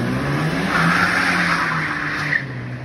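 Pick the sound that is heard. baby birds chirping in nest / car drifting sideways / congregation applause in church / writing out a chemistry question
car drifting sideways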